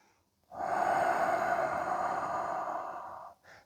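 One slow, steady exhaled breath, soft and close, lasting a few seconds as air is gently let out, followed by a brief faint intake.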